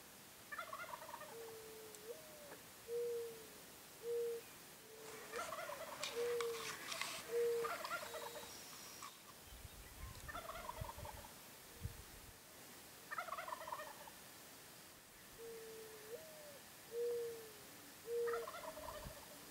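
A wild turkey tom gobbles repeatedly at dawn near its roost, several loud rattling gobbles in bursts every few seconds, carrying from a moderate distance over a quiet morning with faint low rumbles between calls.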